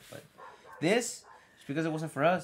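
Dogs bark and whimper in the background of a mouse review, a few short yips and barks mixed under close, continuous conversation between people.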